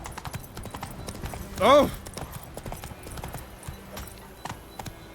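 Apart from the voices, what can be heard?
horse Roach's hooves clip-clopping in the video game Witcher 3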